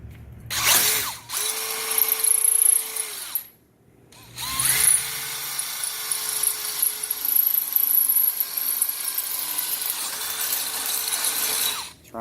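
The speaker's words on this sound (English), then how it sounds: "Line it up and drill your hole through the plastic so everything lines up." A power drill bores through a plastic handle during a handle replacement, whining at steady speed in two runs separated by a brief pause, close and loud, the second run longer with the motor pitch sagging slightly under load.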